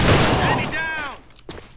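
Keltec RFB rifle in a video game: a quick burst of loud, punchy gunshots with a ringing, metallic decay trailing off afterward.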